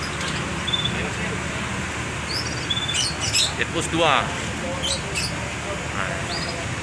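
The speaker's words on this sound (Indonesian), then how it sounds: "ini burungnya Om Dion ini. Mau dipelihara burung ini. Burung kenari ini." A pet canary gives faint, scattered high chirps near a bus ticket office, half buried under steady traffic rumble, while someone talks briefly.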